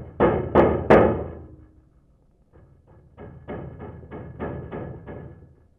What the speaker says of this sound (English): I'm going to put the stethoscope up to it and just bang on the side of it.